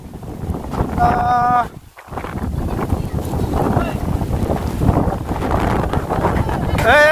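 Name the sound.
strong wind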